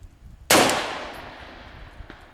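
A gas-operated rifle fitted with an Ultradine muzzle brake fires one loud, sharp shot that rings out and decays over about a second, with a faint click afterward.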